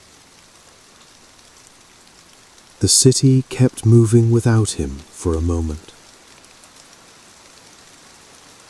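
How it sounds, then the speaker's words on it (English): Soft steady rain patters on windows throughout, with someone speaking briefly in the middle over the gentle hiss. "Rain continued sliding slowly down the windows."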